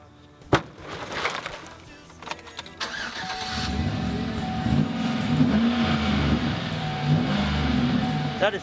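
A 5.3-liter Detroit V8 with a Flowmaster dual exhaust and chrome tips starts with a sharp crank, then settles into a deep, rough rumbling idle nearby, with some clanking noise before the start.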